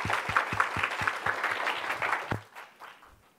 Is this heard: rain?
no